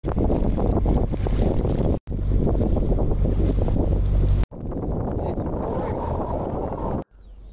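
Strong wind gusting across a river while boating, a loud, steady roar buffeting the microphone in long sustained bursts with brief cutoffs between them.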